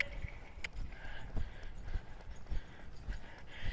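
Hoofbeats of a horse in an extended trot, even two-beat clip-clop repeating steadily over the ground, mid-distance with a constant rushing background and no talk.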